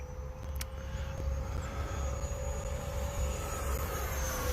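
E-flite Viper RC jet plane flying, a steady whining drone at moderate distance, constant throughout with a brief click early on.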